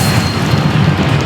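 A Confringo blasting spell detonates in Hogwarts Legacy, a loud, deep booming blast that rumbles steadily for just over a second with no voices.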